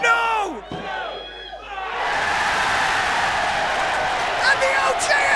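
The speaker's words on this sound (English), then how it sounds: "Listen to the crowd here at the Electric Ballroom." A wrestling crowd at the Electric Ballroom erupts at an independent tournament show. Shouted voices come first, then a loud, sustained wash of cheering and roaring fills the room and rises briefly near the end.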